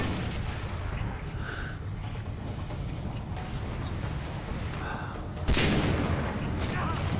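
Gunfire crackles in the Far Cry 3 video game. Quiet, rolling bursts of shots run throughout, and a sudden, much louder volley strikes near the end and stays loud.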